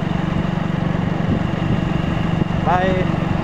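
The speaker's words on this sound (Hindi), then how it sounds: "ये देखिए हम बाइक चला रहे हैं।" Motorbike ridden along a small village road, its engine a steady close drone throughout with road noise, and a brief chirping sound near the end.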